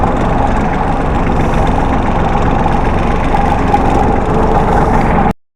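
A Captain 283 8G mini tractor engine idles loudly and close by, a constant chugging rumble that cuts off abruptly at the end.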